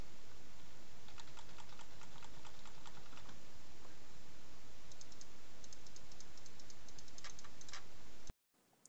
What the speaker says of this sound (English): This is a keyboard and mouse test of the Logitech G930.